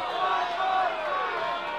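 A wrestling crowd at a live indie show chants in unison, a loud, sustained roar of many voices filling the arena.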